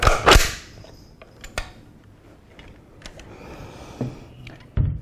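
Hand-cycled M14 rifle action with its op rod pulled back, heard as a sharp metallic clack at the start followed by scattered clicks and sliding metal sounds, close and with no talk.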